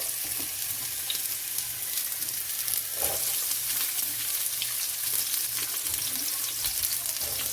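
Onions frying in oil in a pan, a constant dense sizzle with occasional soft scrapes and clicks, no voices over it.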